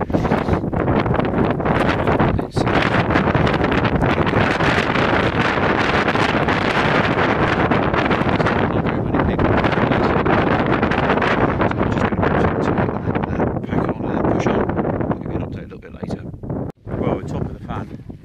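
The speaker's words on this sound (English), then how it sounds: "the wind's blowing and the snow's blowing up over me." Strong mountain wind roars constantly against the microphone on the Cribyn climb in blowing snow, loud and buffeting throughout with brief gusty dips near the end, and a voice is speaking under the noise.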